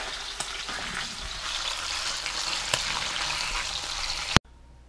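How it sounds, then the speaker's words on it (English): Omelettes fry in a pan with a steady, close crackling sizzle and a few sharp clicks, then cut off abruptly near the end; no talking. "Cooking some omelettes."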